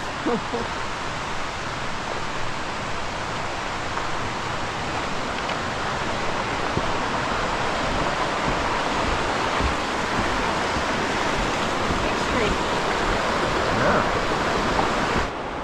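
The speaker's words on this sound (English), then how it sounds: "And we found the most beautiful waterfall" A waterfall in the Shenandoah and New River Gorge national park area roars close by as a dense, steady rush of falling water that stays constant and fills the whole scene.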